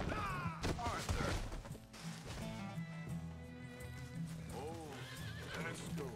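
A horse in Red Dead Redemption 2 whinnies loudly in a rising, wavering neigh, with hooves clopping nearby, a second shorter whinny later on, and people talking over the game sounds.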